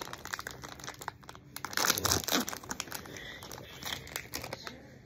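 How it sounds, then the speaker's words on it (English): Someone opens a pack of baseball cards, crinkling and tearing the foil wrapper close up with a louder rip midway, then lighter rustling of the cards. "All right, let's open the cards."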